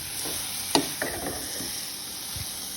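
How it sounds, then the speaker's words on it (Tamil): Grated beetroot sautés for halwa in a pan, giving a faint steady sizzle broken by a sharp spoon clack and a couple of softer stirring scrapes. "இப்போ நாம் துருவி வச்ச பீட்ரூட்டை இதில் சேர்த்துடலாம். பாருங்கள், இதை நல்லா வதக்குங்க."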